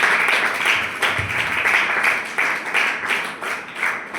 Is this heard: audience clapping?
yes